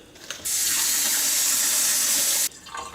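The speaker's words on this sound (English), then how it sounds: "we just added some water" Tap water pours into a jar being refilled for an oregano cutting, a steady, close splash that starts abruptly and runs for about two seconds before stopping sharply, with quiet room sound on either side.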